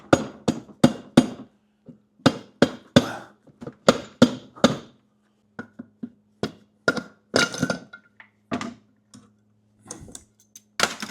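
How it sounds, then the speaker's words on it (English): Sharp metallic taps ring out in quick clusters and single strikes as a tool knocks on a 1970s Mercedes 722.1 transmission case to free it from its gasket, close and crisp with brief quiet gaps. "You could just tap it like this. What that does is it breaks it loose from the gasket"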